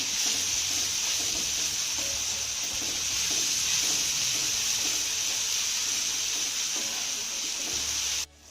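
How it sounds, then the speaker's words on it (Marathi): Ginger garlic paste frying in a pan with onion, a steady close sizzle with faint stirring scrapes running evenly throughout, ending with a brief clatter. "आलं लसूणची पेस्ट आपल्याला एक ते दीड मिनटं चांगली परतून घ्यायची आहे"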